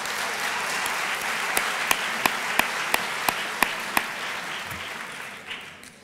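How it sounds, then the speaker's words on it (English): Audience applause at a university book talk, a steady wash of many hands with a few sharp, evenly spaced loud claps standing out nearby, then fading away toward the end. "Yes, let's applaud."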